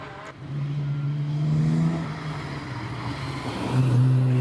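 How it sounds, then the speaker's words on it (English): A heavily modified Jaguar E-Type race car on a hillclimb practice run at Prescott, its engine droning steadily at a distance with rising revs and shifting pitch as it climbs, loud and continuous with no voices. "I think this is a practice run for Hayden Spedding in the much, much modified E-Type"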